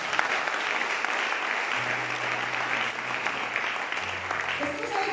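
A church congregation claps steadily in dense, continuous applause that fills the whole stretch, with a voice speaking over it near the end.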